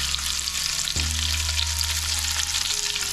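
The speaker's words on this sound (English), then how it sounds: "we'll just let it sit there and saute and start cooking" Salmon sautéing in garlic butter in a hot pan, a steady, close, bright sizzle that continues throughout, joined partway by a low steady hum, with no voices.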